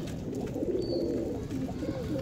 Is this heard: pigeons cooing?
yes